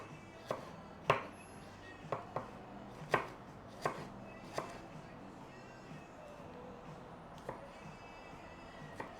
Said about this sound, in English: I'm just going to do chunky bits of chili because I want the chili flavor